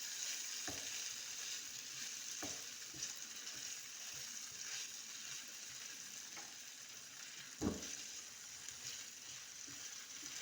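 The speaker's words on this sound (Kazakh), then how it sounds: "Майға кішкене қуырып жібереміз бұны да." Sausage pieces fry in oil in a pan, giving a steady, dense sizzle throughout with a few brief clicks and scrapes of stirring, one louder knock near the end; no talking.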